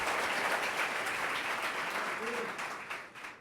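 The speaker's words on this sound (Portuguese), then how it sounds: "Você consegue aplaudir ao Senhor pela sua palavra?" A church congregation applauds together, a steady wash of clapping that fades slightly toward the end, with a brief voice rising faintly underneath near the middle.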